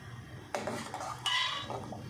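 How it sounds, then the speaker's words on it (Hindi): Zarda food colouring added by teaspoon to a pot of water set to boil for sweet rice, with two clinks of a metal spoon against the pot and brief stirring, close and without talk. "ये 1 टीस्पून हम इसमें ज़र्दे वाला कलर डाल देंगे।"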